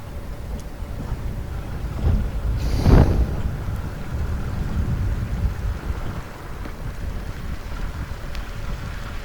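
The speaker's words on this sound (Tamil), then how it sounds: "இங்கே திருப்பூர் வரைக்குமே விடாது போல் மழை அடித்து ஊற்றிக்கிட்டு இருக்குது." Heavy rain pours steadily during a midnight drive from Chinnar Wildlife Sanctuary toward Udumalaipettai, with a continuous wash of noise and a louder gust-like swell near the middle.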